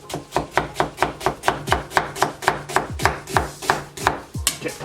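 A knife slices onions thin on a cutting board. About twenty sharp, steady chops fall in a quick, even rhythm, close and clear, with nothing else heard.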